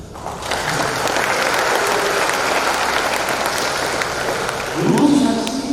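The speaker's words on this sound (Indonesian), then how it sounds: "Tepuk tangan dulu." Audience applause at a civil service graduation and inauguration ceremony, a steady, dense wash of clapping that carries for several seconds and swells slightly near the end.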